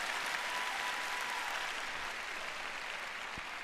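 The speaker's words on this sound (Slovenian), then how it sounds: "No, bolje, da sedaj malo bolj glasno zaploskate." Audience clapping steadily in a hall during a sermon, dense continuous applause from a crowd, loud and sustained.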